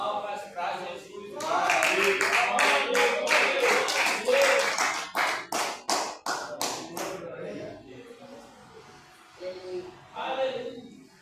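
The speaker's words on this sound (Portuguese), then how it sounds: "Palmas para Jesus." Church congregation clapping in unison at a worship service, a steady run of sharp hand claps over murmured voices, breaking into looser separate claps before fading as talk resumes.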